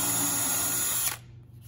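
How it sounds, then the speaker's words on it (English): A power drill bores a quarter-inch hole through scrap wood, giving a steady high whine for about a second before it suddenly stops, leaving faint room noise. "we'll just drill a 1/4-inch hole right through where we marked the little dot."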